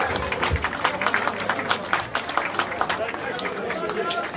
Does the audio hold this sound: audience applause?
yes